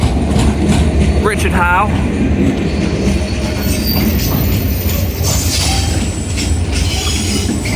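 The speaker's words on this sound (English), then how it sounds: "Pass through now are a dual pair of GBRF Class 69s on the RHTT from Doncaster up decoy to Peterborough with 69008" A pair of GBRF Class 69 locomotives runs through Grantham on the East Coast Main Line with a rail head treatment train, a loud, steady rumble of wheels with a short squeal, while someone talks over it.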